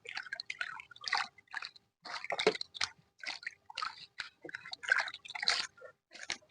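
Ten avocado leaves being washed clean in water, with wet squishing and dripping in short bursts that come and go closely, with no talk.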